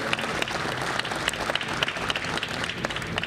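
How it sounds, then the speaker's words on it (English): Audience applause at the 2017 New York Boat Show, a dense, loud, steady wash of many hands clapping in a large hall, with sharp individual claps poking through and no voice on top. "Let's give them a big round of applause and welcome them to New York."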